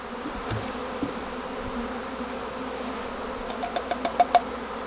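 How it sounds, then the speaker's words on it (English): A dense, steady hum of many honey bees buzzing close by in a bin, with a few sharp knocks near the end as the bees are banged into one corner. "So I'm going to bang the bees to one corner of the bin"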